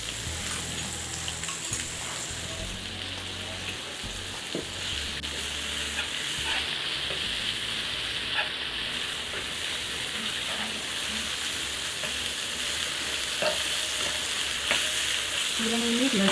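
Minced milkfish fries in a pan with a dense, steady sizzle, stirred with scraping and tapping utensil sounds, loud and close, with no talk.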